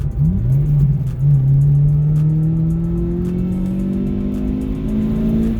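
An Acura RSX engine revving as the car accelerates, the note climbing steadily through the gears, loud and close from inside the car with no talk.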